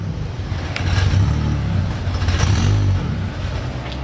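A Mk3 Golf engine at full throttle, a loud, rough, close rumble that swells and holds for a few seconds and then eases slightly, with no talking over it.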